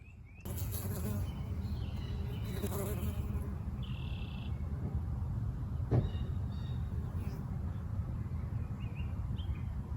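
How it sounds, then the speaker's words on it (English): Bees buzz steadily around pumpkin and winter squash flowers on a garden trellis, a continuous insect hum with a few passing fly-bys and one brief knock near the middle, no talking. "it's fun to watch the bees work"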